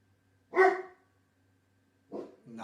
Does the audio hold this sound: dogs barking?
yes